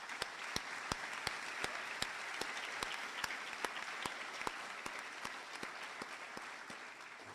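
An audience at a high school speech day applauds steadily and at a distance, a continuous wash of many hands clapping with occasional sharper individual claps standing out.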